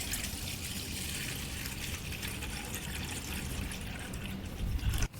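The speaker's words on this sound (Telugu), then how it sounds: "తర్వాత మనకు కావాల్సినంత వాటర్ యాడ్ చేసుకోవాలి" Water poured into a bowl of freshly squeezed lemon juice makes a continuous close trickling splash for several seconds, then a louder final gush.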